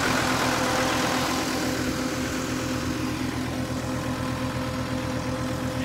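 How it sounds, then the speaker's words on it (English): A Same 95-horsepower farm tractor engine runs at a steady idle-like rumble, close and continuous with an even low drone and a faint tonal hum, no voices. "We're still cranking away here with the Same, S-A-M-E, 95 horsepower."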